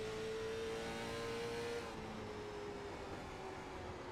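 A race car engine in a video game roars at a steady high pitch, holding constant, then dips slightly and continues droning loudly without pause.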